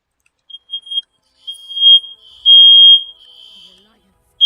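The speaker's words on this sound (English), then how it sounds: "That's my fire alarm going off." Home smoke alarm going off with a shrill high-pitched tone, broken into short chirps and then longer sustained blasts, fairly loud and close.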